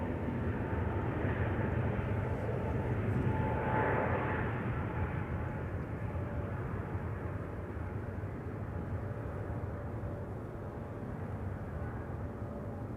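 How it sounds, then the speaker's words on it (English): A KLM Airbus A321neo jet at Amsterdam Schiphol Airport roars steadily on takeoff, a broad distant engine rumble holding for about thirteen seconds and easing slightly toward the end. "KLM flight 1603 to Rome is pulling up. A321neo."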